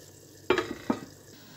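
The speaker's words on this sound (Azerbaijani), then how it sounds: "Yaxşıca qarışdırırıq altını üstünə çevirib." Purslane being stirred as it fries in a pot: two distinct scraping stirs against the pot, each followed by a brief sizzle, over a faint, steady frying hiss.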